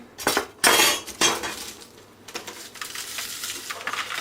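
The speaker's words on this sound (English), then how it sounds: "I'm going to cut up my bacon for my mashed potatoes and for my spinach salad" A knife chops bacon into big and small pieces, producing a few sharp close knocks and clinks early on, followed by quieter scraping and light tapping.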